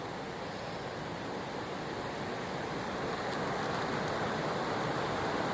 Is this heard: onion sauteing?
no